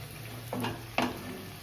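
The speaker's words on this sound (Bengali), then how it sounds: "ঢাকাটা খুলে আবার একবার মিশিয়ে নিচ্ছি। এইভাবে বারবার মিশিয়ে নিতে হবে," Cauliflower roasting in a pan with its lid lifted, stirred with two short scraping strokes over a steady low sizzle, close and fairly quiet, with no talk.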